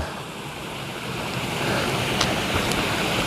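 A stream flows beside a bridge on the Appalachian Trail, a constant broad rushing wash of water that grows slightly louder, with some wind noise and no talking.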